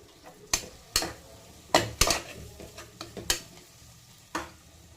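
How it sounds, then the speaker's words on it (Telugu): Turmeric and ginger paste being stirred and fried in a pan for egg dum biryani, with sharp scraping clinks of a spoon against the pan at irregular intervals over a low background sizzle, close and moderately loud. "పసుపు, అల్లం ముద్ద వేసుకొని వేయించుకోవాలి."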